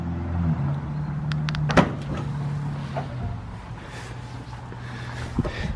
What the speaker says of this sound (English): you can see on this truck I got an automatic tailgate release.